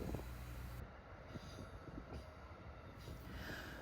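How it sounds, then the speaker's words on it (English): A train rolls through the Rochester Amtrak station, a steady, fairly quiet rumble of wheels and railcars with a faint squeal, heard from a distance with no talking. "there were a few other trains passing through"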